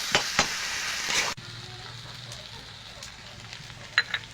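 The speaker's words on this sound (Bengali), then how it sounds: "ভেজে নেব ভালো করে।" Banana flower and prawns frying together in a pan with chilli powder added, a steady sizzle under occasional stirring scrapes, loud and close, with a sharp cut partway through and a few clinks near the end.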